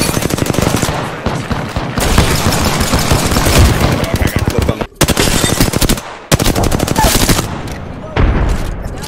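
Video game gunfire in dense, rapid automatic bursts, loud and close with a few brief gaps, mixed with a player's voice talking over the shooting.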